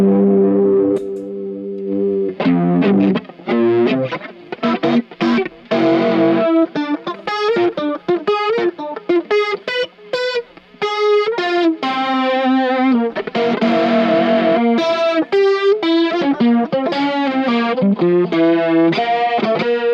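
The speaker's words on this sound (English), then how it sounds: "fake Leslie sound on" Electric guitar through a fake Leslie rotary speaker effect with distortion and chorus, strummed and picked loud chords and runs with a swirling, warbling tone, played continuously without talking.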